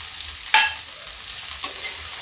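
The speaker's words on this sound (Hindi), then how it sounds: "अब इसको सबको हम कम से कम 5 मिनट के लिए फ्राई करेंगे" Chopped onion, potato and cauliflower fry in a pan under a steady sizzle, broken by two sharp spatula scrapes about a second apart.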